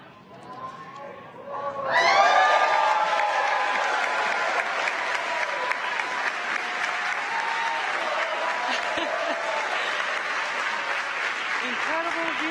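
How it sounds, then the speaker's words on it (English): A large outdoor crowd erupts into cheering and sustained applause for the SpaceX Crew 4 Dragon Freedom splashdown, swelling suddenly after a quieter start and holding a dense roar of clapping and shouts, with a voice talking over it. "the crowd goes wild for Crew 4"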